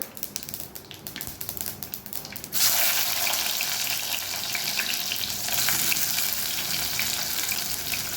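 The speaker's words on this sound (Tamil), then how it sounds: "கடுகு நல்லாவே பொரிஞ்சிருச்சு இந்த டைமில் கட் பண்ணி வச்சுருக்கேன் வெங்காயத்தை உள்ளார சேர்த்துக்கலாம்" Chopped onions hit hot oil where mustard seeds have already popped. A quiet stretch gives way to a sudden loud, hissing sizzle that stays steady and close for the rest of the clip, with no talking.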